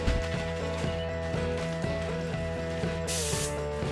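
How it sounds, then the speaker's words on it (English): A paint spray gun lets out a short, sharp hiss of burnt bronze paint while refinishing parts of a CR85 dirt bike, a single brief burst near the end over steady background music. "I'll cap it and then start to spray"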